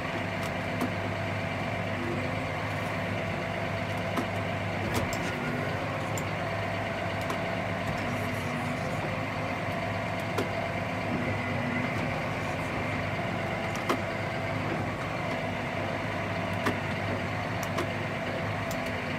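A 2014 Claas Arion 650 CEBIS tractor, 185 hp, idles with a steady, even engine drone and a faint high whine, constant and moderately loud with no talking.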